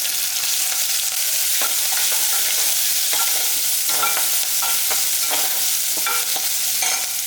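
Small shallots sautéing in hot oil with curry leaves, mustard seeds and dal for a goat head curry: a steady crackling sizzle with intermittent stirring scrapes, close and alone.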